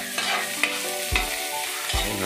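Garlic and onion fry in a hot pan while being stirred, a steady sizzle broken by a few scraping utensil strokes against the pan, close and fairly loud with no talking.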